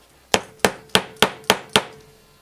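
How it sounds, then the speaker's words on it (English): Six sharp hammer blows land in a steady rhythm on staples in a wooden canvas frame, each a close, hard knock with a short ringing decay. "this is where my new hammer comes into play"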